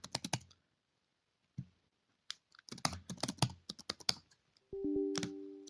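Keys clacking on a computer keyboard while a name is entered into a hotel management system login, several short bursts of taps with pauses between them, close and clear, followed by a steadier tone at the end.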